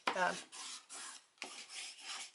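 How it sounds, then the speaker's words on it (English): Strips of tape on paper being burnished by hand make about four close, dry rubbing strokes in a quick, uneven rhythm with short pauses between them. "I'm going to burnish these, give them a good,"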